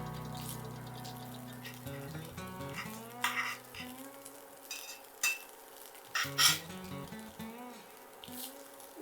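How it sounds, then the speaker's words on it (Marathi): Prawn cakes (dangar) fry in a pan over a low gas flame, a faint, steady sizzle broken by a few sharp clinks and scrapes, with a sustained tonal hum running underneath. "दोन्ही वाटेन एक 1-2 मिनटां बरी भाजली की आमचे डांगर तयार जाले"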